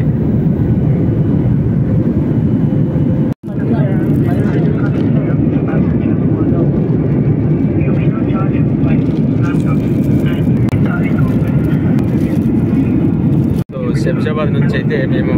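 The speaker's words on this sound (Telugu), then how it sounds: "ఇది హైదరాబాద్ నుంచి త్రివేంద్రం ఫ్లైట్ అయితే టేకప్ అయింది" A passenger airliner climbs out after takeoff on a Hyderabad to Trivandrum flight, its engines giving a loud, steady cabin roar that runs unbroken, with two brief dropouts in the recording.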